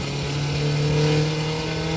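A cheap old Chinese sports coupe, under 1,000 kilos, revs its engine close by, a loud steady drone whose pitch climbs gently as it picks up power.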